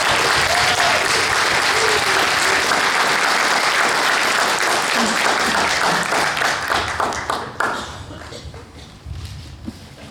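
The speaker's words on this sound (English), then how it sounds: "Let's give Marcy a big round of applause" Audience applause at a Toastmasters club meeting, dense loud clapping from a room full of people that holds steady for several seconds, then thins and fades into scattered claps.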